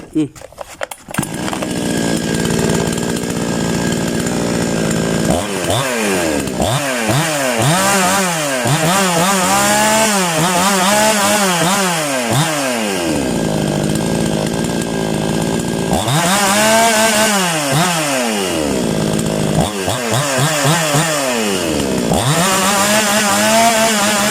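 A chainsaw engine being tuned idles and revs up repeatedly, its pitch rising and falling in long sweeps, loud and close throughout.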